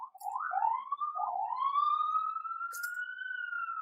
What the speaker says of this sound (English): It's another ambulance.